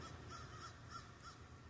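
Crows caw behind a tent outdoors, four evenly spaced calls at a steady rhythm, faint and distant over a low background rumble.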